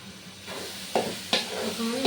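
Vegetable fried rice with a fried egg is stirred in a hot pan with a steady sizzle, while two or three sharp scrapes of the spatula stand out clearly.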